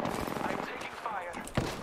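Bursts of automatic gunfire from the battle royale shooter Apex Legends, steady and dense throughout with a sharper shot near the end, heard under a player's continuous talk.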